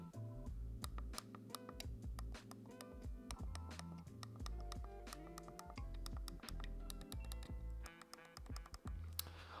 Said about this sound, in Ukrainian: Зараз ви послухайте, як звучать ці кнопки при натисканні.